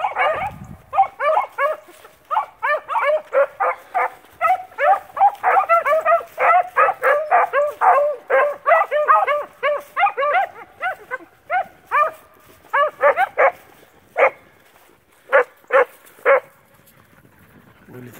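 Beagle hounds baying on a hunt, a pack giving repeated rhythmic barks and bawls at close to moderate distance, dense and overlapping at first, then thinning to scattered single bays toward the end.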